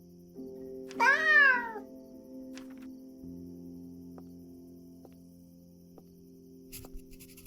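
A single cat meow from Augustus the cat in the video game Cabernet, a clear, rising, wavering cry lasting under a second over a soft, steady musical drone, with no talking.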